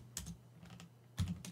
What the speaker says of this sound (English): And over here we will type a message.